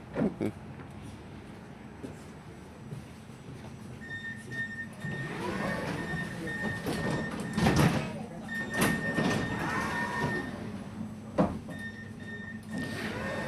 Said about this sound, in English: first tram ride of the trip.